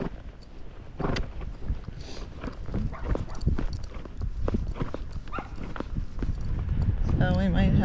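A spotted saddle horse, a gaited breed, clip-clops along a road with a rapid, steady hoof rhythm nearby, while a rider talks over it and a dog barks at times.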